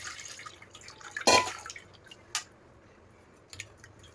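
Tamarind water is strained by hand, with a few separate wet drips and splashes against a quiet kitchen background.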